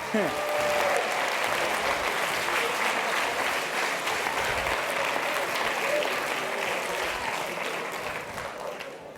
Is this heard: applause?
yes